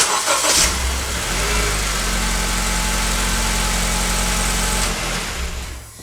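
A 2013-2015 Acura ILX 2.0L engine cranks briefly and catches, then settles into a steady, loud idle that runs close by before easing off at the end; nobody speaks.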